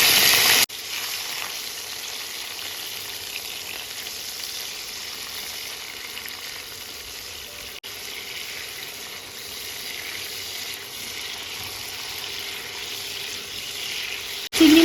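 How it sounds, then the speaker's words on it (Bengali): Continuous crackling sizzle of shrimp frying in hot oil, steady and fairly quiet, with no voices. "চিংড়ি মাছটা হালকা করে ভেজে নেবো"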